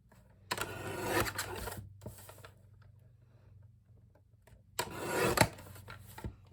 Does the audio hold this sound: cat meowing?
no